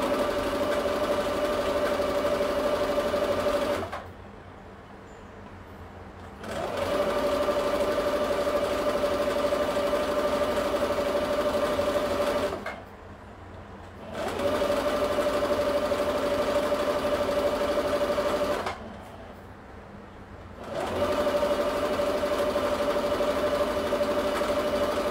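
Sewing machine stitching soft fabric for a cat doll, four long steady whirring runs separated by short pauses, close and even, with no voices.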